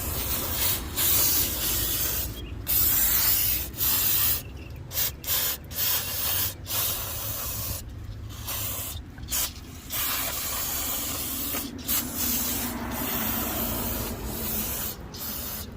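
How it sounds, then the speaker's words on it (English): Brake cleaner hisses from an aerosol can onto rear car brake parts during a brake pad job, in steady bursts broken by brief pauses across the whole stretch. "I'm gonna spray it down, use some brake cleaner, spray it up, lube it up."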